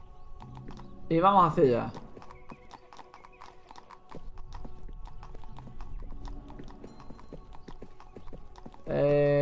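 Horse hooves clip-clop steadily at a walk in the medieval game 1428: Shadows over Silesia, with two loud whinnies near the start and end, and someone talks over it.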